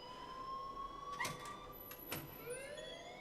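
An electronic alarm in Life Is Strange sounds continuously, a siren-like tone sweeping up and down, with a couple of sharp clicks or knocks cutting through it.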